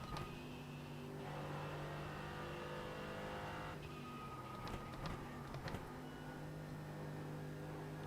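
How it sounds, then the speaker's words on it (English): Twin-turbo race car engine on the Nürburgring in iRacing, a steady sustained drone with a thin high whistle layered on top, holding fairly even throughout with a few brief transient clicks near the middle. "Listen to those twin turbos just whistling away."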